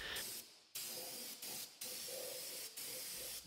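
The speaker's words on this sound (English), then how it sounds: "So this is me spraying my truck in real time for this year, guys." Lanolin undercoating sprayed onto a truck chassis, a continuous hissing spray interrupted by several brief pauses, close and steady with no talk.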